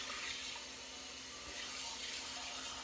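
Tap water running into a kitchen sink over a hot pot to soak it, a faint, steady hiss and splash that continues evenly throughout.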